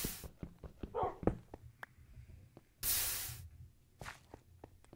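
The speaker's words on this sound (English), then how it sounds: "hello, doggies!" Dogs in a video game bark and yip in short, scattered bursts, with small whimpers between them, a louder rushing burst of game noise in the middle and another brief one near the end.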